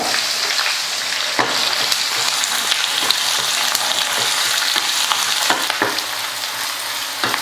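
Continuous hiss of onions frying in hot oil, broken by scattered clicks and scrapes of stirring, close up with no talking.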